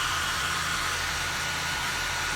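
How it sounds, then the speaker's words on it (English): A hair dryer drying paint blows a constant, close, loud whoosh with a low motor hum beneath, steady throughout. "I'm going to grab the hairdryer, dry that down"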